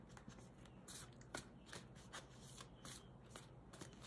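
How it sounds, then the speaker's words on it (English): A tarot card deck is shuffled softly and close, a faint continuous riffling and rubbing of cards with small taps. "here we're going to pull some other cards"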